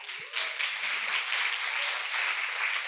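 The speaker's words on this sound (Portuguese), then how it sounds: "Vamos aplaudir o Senhor." A church congregation claps steadily together, a dense sustained wash of applause filling the room for a few seconds with no talking over it.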